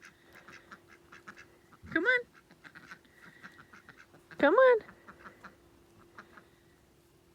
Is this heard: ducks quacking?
yes